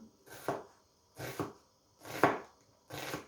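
Four evenly spaced knife chops slicing onion on a cutting board up close, each a crisp thud with a short gap between, and no talking.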